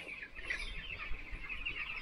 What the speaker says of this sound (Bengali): দেখছি মুরগি একদম সুন্দরভাবে শুয়ে আছে, খাওয়া দাওয়া করছে।